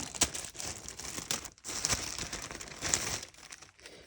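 Crinkly rustling of a plastic bag from a felt craft kit being handled up close, with soft crackles and a few sharper crumples, fairly quiet and with no talking.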